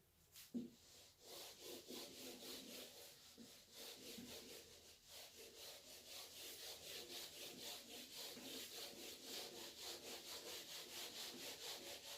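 A diagram is rubbed off a classroom board in quick, even back-and-forth strokes, a rhythmic scraping that runs steadily for several seconds with no talking.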